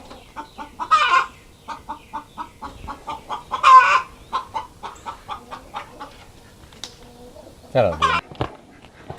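Chickens cluck in a backyard coop shared with ducks, a close run of short, rhythmic clucks broken by a few louder, drawn-out squawks.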